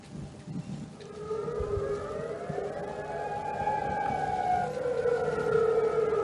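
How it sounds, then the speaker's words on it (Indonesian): An air raid warning siren wails near a military air base in Jordan, a long rising and sliding tone that holds steady and grows slightly louder over a constant background. "memicu aktifnya sirene peringatan serangan udara di sekitar pangkalan"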